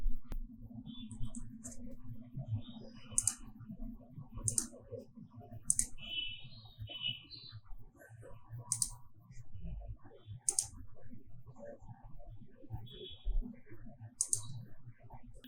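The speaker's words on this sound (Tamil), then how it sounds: "இரண்டாவது நபருடைய பெயரை ஆங்கிலத்திலையும் தமிழ்லையும் டைப் பண்ணிட்டு" Computer keyboard typing while filling in an online application form, soft irregular key clicks scattered across the stretch, fairly quiet, with a low background hum and no talking.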